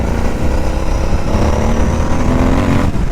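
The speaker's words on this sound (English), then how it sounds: "the sound of the exhaust" A Royal Enfield Interceptor 650 motorcycle revs through its exhaust, a loud, close, throaty rumble that holds steady while riding over a few seconds.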